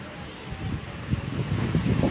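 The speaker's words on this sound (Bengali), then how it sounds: "আমরা তো ভয় পেয়ে গেছি, হঠাৎ করে হাওয়াটা আসলো।" Strong gusty wind ahead of rain buffets the microphone in rising, uneven surges, starting fairly quiet and growing louder toward the end.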